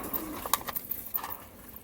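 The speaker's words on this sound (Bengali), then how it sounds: "একজোড়া কালশিরা পায়রা সেল আছে" Soft Kalshira pigeon cooing, a few low murmuring coos close by, over faint background noise.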